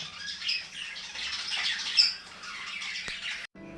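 Birds at Trichy Birds Park give loud, harsh squawks and chatter close by. The calls run continuously until an abrupt cut near the end.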